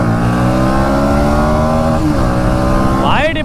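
A Hero Xtreme 125R and a 2024 Bajaj Pulsar NS 125 in a drag race hold a loud, close, rising engine whine, then a quick upshift with a sharp climbing rev near the end.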